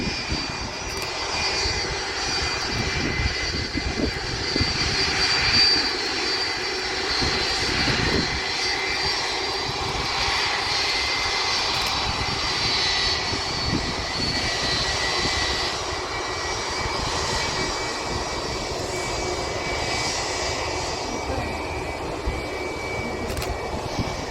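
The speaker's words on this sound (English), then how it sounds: "That aircraft is an Airbus A330-200 belonging to Delta Airlines." A Delta Airlines Airbus A330-200 jet bound from Frankfurt to New York rumbles steadily at Manchester Airport, a broad continuous engine roar holding at moderate loudness throughout with no voices over it.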